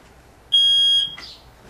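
A battery-powered smoke alarm sounds when its test button is pressed: a single loud, piercing electronic beep lasting about half a second, close by in a quiet room, followed by a faint click.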